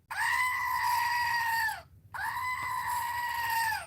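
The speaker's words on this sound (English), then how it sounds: "I love the goat." A goat bleats twice, loud and close, each call a long wavering cry of about two seconds separated by a short pause, with no voices.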